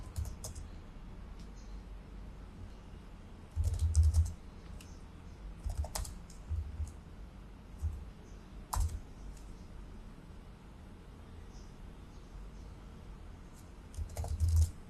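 Someone types a terminal command on a computer keyboard, a run of quiet close key clicks in short bursts with louder clusters and a few sharper key strikes.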